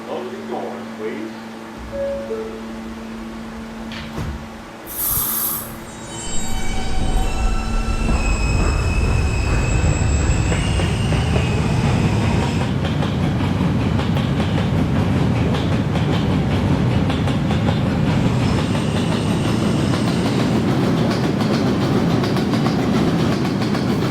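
An R160A subway train on the K line, heard from the operator's cab, sits with an automated announcement and door chimes, then pulls away, building into a loud, sustained rumble of wheels on rails.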